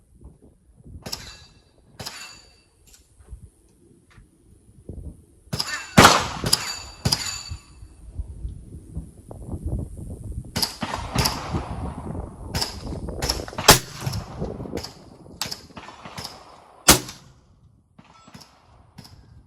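Rifle shots strike steel targets as sharp, ringing cracks, about a dozen spread irregularly over the stretch, some in quick pairs, with faint activity between them.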